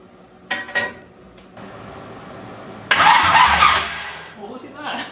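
A Ford Maverick engine, just after a carburetor adjustment, cranks briefly and then catches into a rough running roar, with short voice bursts before it and the engine settling back at the end.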